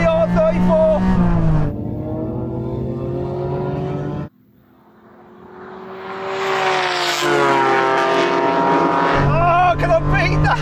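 Gran Turismo race car engines in a video game drag race, including a Honda NSX and a Nissan Skyline R34, roar with sustained revving tones that drop out briefly, then climb back up in pitch, loud and close. A person talks over them.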